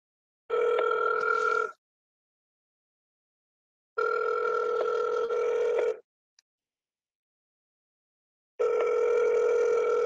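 An outgoing phone call's ringback tone sounds in three long steady electronic bursts separated by silent gaps, clear and alone.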